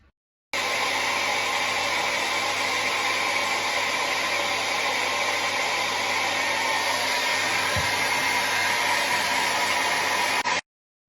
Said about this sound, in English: Get my hairdryer out and start blasting those thick bits of gesso.